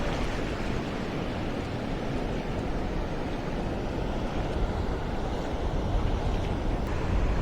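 Sea waves wash steadily onto Versova Beach in Mumbai at night, a loud, continuous broadband roar of surf with wind buffeting the microphone and no voices.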